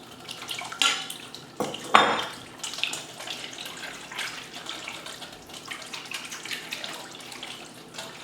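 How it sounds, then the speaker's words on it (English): A whisk works oil into a thick dressing in a bowl, giving quick clinks and scrapes against the bowl's sides in uneven bursts. Louder knocks come early, then a steady softer whisking continues without any talk. "I'm going to keep whisking here."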